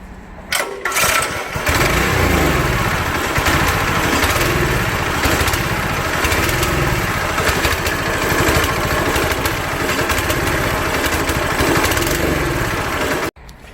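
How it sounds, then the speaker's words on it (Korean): A small engine on a power sprayer sputters into life and then runs loud and steady at close range, its drone pulsing slightly for more than ten seconds before cutting off abruptly near the end. "제가 시동을 걸고 계속 이걸 뿌리고 있을 겁니다."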